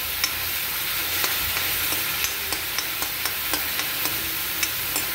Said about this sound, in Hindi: ये पेस्ट ऐड करना है। ये देखिए, इसको अच्छे से ब्राउन भून लेना है।